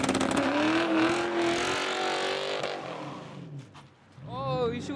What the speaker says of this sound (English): I'm trying to do a burnout.